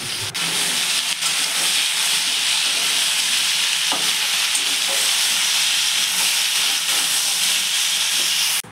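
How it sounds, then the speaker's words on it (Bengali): Okra and potatoes sizzle and hiss steadily in hot mustard oil, a continuous loud frying crackle with occasional stirring scrapes. "দিয়ে ভেন্ডি আর ওই আলুগুলোকে একটুখানি ভাজতে দেবো"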